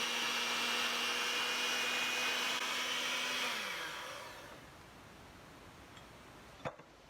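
An electric appliance motor hums steadily while mixing bread dough, then winds down and stops, leaving faint room noise and one small knock near the end.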